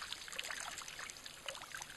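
Soft, close water trickling and dribbling off elephants' trunks at a waterhole, a faint, steady patter of small drips and splashes with no talk.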